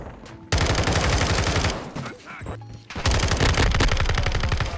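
Rapid automatic gunfire from an FSS Hurricane loadout in a video game, loud sustained bursts with a short lull in the middle before heavy firing resumes.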